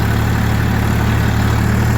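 A tractor engine idles close by, a steady low mechanical drone with even vibration filling the whole stretch, no voices over it.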